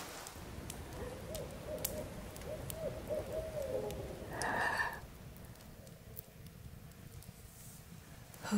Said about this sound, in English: An owl is hooting.